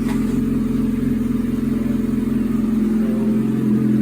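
A motorcycle engine idles steadily to circulate its oil, giving a continuous, even low rumble that holds close and loud for the whole stretch with no one speaking.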